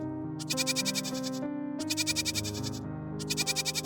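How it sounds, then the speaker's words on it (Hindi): A tethered goat inside a hut bleats loudly and repeatedly, three long wavering cries separated by short gaps, with music playing underneath. "उसकी बकरी उसकी झोपड़ी में ही बंधी होती है और काफी चिल्ला रही होती है"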